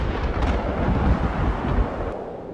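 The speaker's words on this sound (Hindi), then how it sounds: "तभी तेज हवाएं चलने लगी और आसमान में बादल गरजने लगे।" Rumbling thunder under strong, gusting wind that buffets the microphone, a dense low roar that stays steady and loud from start to finish with no voices.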